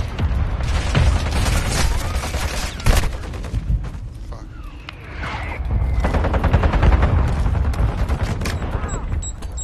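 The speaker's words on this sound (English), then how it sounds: "Friendly mortar strike on the way." A friendly mortar strike lands in a shooter video game, a rapid series of heavy blasts and gunfire crackle rolling through the scene, loud and close, easing briefly midway before the barrage resumes.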